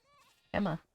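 A goat in a Minecraft modpack gives one short, fairly loud bleat, preceded by a faint tonal hum.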